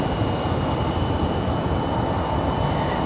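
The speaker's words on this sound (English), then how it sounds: "Looks like we got another CRJ out there for departure." A CRJ regional jet departs Raleigh Durham airport, its steady broadband engine roar loud and continuous throughout, with no voices over it.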